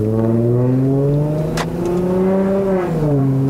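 A Lexus IS250 with a 2.5-litre naturally aspirated V6, remapped, revs loudly and up close, its engine note climbing steadily in pitch, dipping briefly, then rising again, heard from inside the car with the window partly open.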